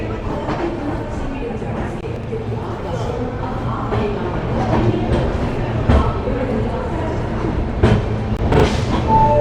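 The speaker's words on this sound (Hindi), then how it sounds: "सही समय पर यहाँ से डिपार्चर हो चुका है ट्रेन का" A superfast express train pulls out of New Delhi railway station, its steady rumble and rolling wheel clatter running continuously with a few sharper clanks, while people talk nearby on the platform.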